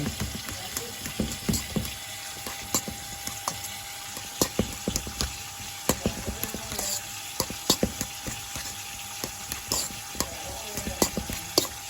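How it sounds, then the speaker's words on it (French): A fork mashes cooked kidneys in a pan, producing repeated sharp metallic scrapes and taps in an irregular rhythm over a steady low sizzle, close and fairly loud, with no talk. "avec une fourchette. On va les écraser."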